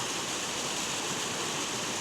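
Water in a fast-running bush stream in Australia, heard as a close, constant, full rushing roar without any pause.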